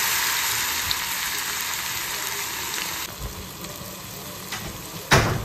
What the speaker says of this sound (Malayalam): ഇനി ഞാൻ ഇതൊന്ന് ഫ്രൈ ചെയ്തെടുക്കുകയാണ്